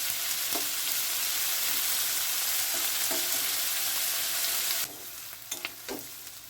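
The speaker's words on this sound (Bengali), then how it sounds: "পেঁয়াজটা খুব লাল লাল করে ভাজবো না, পেঁয়াজটা হালকা ভাজবো" Onions sizzle steadily in a hot pan as they are lightly fried for egg kalia, with occasional clinks of a utensil stirring; the frying quiets a little near the end.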